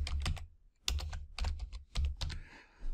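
Rapid bursts of keystrokes on a computer keyboard as a name is typed in as on-screen text, the clicks coming in several quick clusters separated by short pauses, close and clear with no talking.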